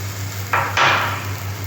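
Ginger paste hits hot oil in a pan and is stirred, giving two short, close bursts of sizzling over a low steady hum.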